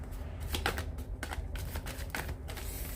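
Tarot cards being shuffled by hand: repeated soft riffling flutters and crisp card snaps in quick bursts, close by and fairly quiet, with no voices.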